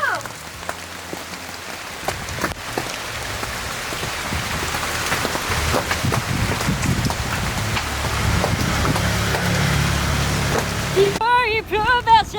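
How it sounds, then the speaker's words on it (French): Heavy rain pours down at night in Bali, a dense, steady hiss of drops pattering on surfaces with sharper close splats, continuous and loud, with faint voices in the background. "Il pleut bien ce soir."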